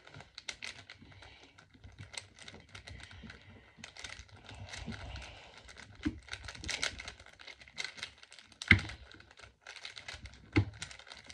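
A Rubik's Cube is scrambled in quick plastic clicks and clacks, fairly quiet and close, with bursts of turning and brief pauses.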